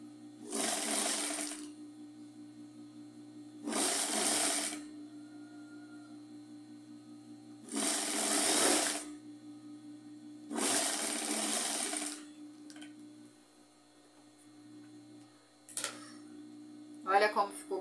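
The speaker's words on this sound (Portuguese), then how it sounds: "E aí eu venho aqui e costuro." A sewing machine stitches strips of leftover fabric scraps for a rug in four steady, close bursts of a few seconds each, separated by pauses, with a short final burst.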